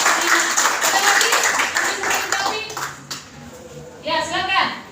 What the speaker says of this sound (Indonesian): Berikan tepuk tangan untuk sini